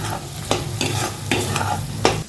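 Ground spices, garam masala and dried red chillies frying in hot oil in a pan for a fenugreek vegetable dish, a steady loud sizzle broken by several scraping stirs, with no talking.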